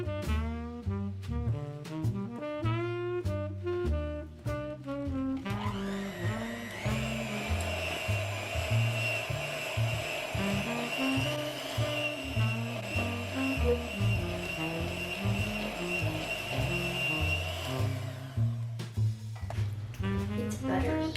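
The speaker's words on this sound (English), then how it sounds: "then I'll go back in with the hand mixer" An electric hand mixer whirs through s'mores cookie dough, a steady motor whine that starts partway in and runs for several seconds over background music, then cuts off.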